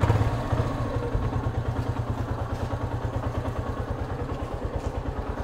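A scooter engine idles nearby with a steady, rapid low thumping pulse and a faint rattle, running evenly throughout.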